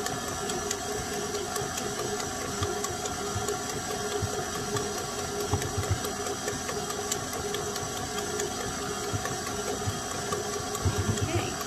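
A stand mixer beats lemon pound cake batter with a steady, even motor whir and faint rattling, held close and constant throughout with no talking.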